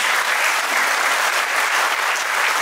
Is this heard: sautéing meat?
no